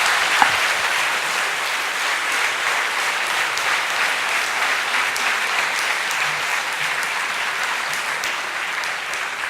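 Sustained, dense applause from a large audience at a talk on India and the networked world, steady and even for nearly ten seconds with no voices over it.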